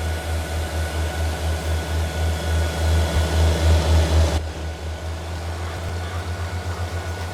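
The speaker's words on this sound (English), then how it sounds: "this tractor does have a good sound to it as well" A tractor engine drones in Farming Simulator 22, loud and steady with a slight pulsing throb. Partway through, the tone drops and turns quieter and rougher, then carries on alone.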